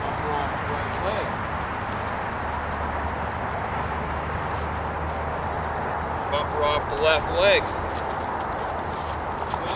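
A mare on her second ride steps along under a rider, hooves clip-clopping at a steady walk beneath a constant low rumble, while someone talks through most of it giving riding cues.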